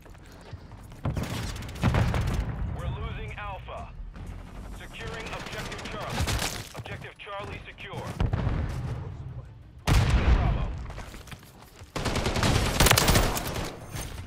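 Automatic gunfire bursts from a multiplayer shooter game, several loud broadband volleys in irregular bursts mixed with a player talking over them.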